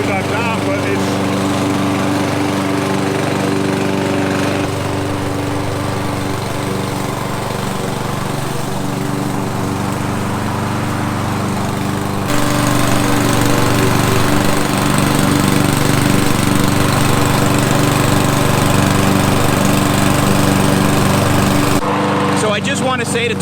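A Toro lawn mower cuts tall zoysia grass with a loud, continuous engine drone whose tone and load shift partway through and again near the end, running alone without voices.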